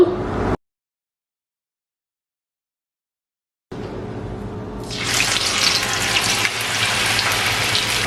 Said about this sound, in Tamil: இப்போ இந்த எண்ணெய் வந்து கொதிச்சுட்டு நாங்கள் இப்போ இதை எடுப்போம் இந்த பிளந்து வச்ச பிலா இது இருக்குல்ல